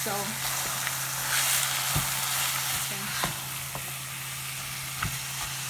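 Ground beef for tacos frying in a pan, a steady close hiss of sizzling fat with a few sharp utensil knocks and scrapes, brief speech at the start and a faint hum throughout.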